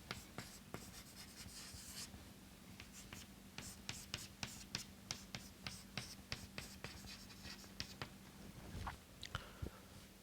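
Chalk or marker strokes on a board during a physics lecture on lasers, a quick, uneven series of close scratchy taps and scrapes over a faint steady hum, no talking.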